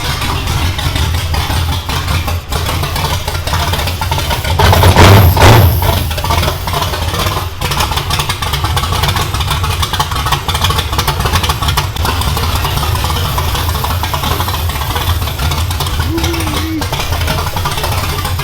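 A Chevy Nova with a new nitrous-fed engine idles roughly right after its first fire-up, a steady close engine drone running through the whole stretch with a brief louder swell in the middle.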